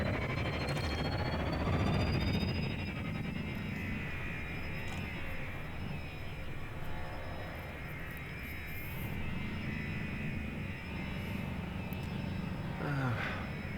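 Spaceship engines in the game Elite Dangerous roar at full power, a steady, loud, jet-like rushing drone that holds for the whole stretch with slight swells, and no voices over it.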